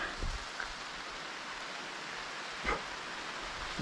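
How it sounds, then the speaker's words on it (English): Soft, steady hiss of rain falling outdoors on a long walk, faint and even, with a couple of brief thumps from footsteps or handling. "You can hear it raining."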